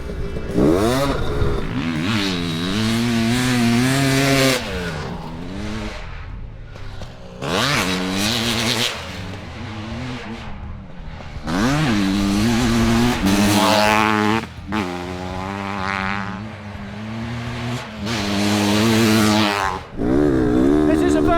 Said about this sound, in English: our fuel injected 500cc two-stroke since we swapped out the old TPI system for this high-tech brand new TBI system